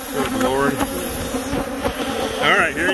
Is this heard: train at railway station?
no